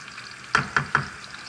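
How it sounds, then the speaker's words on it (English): Eggs sautéing in oil with spinach in a pan, a soft steady sizzle broken by three sharp scraping stirs in quick succession, close by with no talking. "You see everything is getting sauteed together."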